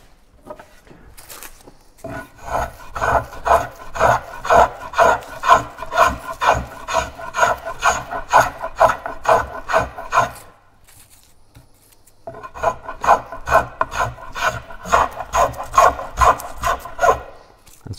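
A spokeshave shaves a wooden paddle in quick rhythmic strokes, each a rasping scrape, in two close bursts separated by a brief pause.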